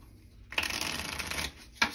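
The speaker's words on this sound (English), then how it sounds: "having all these cards shuffled back in the stinking deck" A deck of cards for the Stilicho board game is riffled in a quick rustling burst of about a second, followed by a short second snap of cards, close and fairly loud with no talking.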